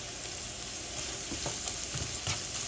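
Tilapia pieces frying with chopped green chilies in a pan, a steady broadband sizzle with a few soft stirring scrapes and clinks, close and fairly quiet, with no voices.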